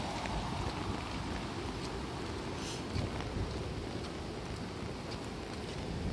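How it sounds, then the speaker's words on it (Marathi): Heavy monsoon rain pours steadily over a village, a dense, continuous wash of broadband hiss with low rumbling underneath and no voices, holding at an even level throughout. "पावसानं जोर केलाय"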